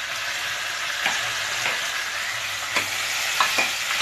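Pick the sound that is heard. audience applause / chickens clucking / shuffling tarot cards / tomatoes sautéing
tomatoes sautéing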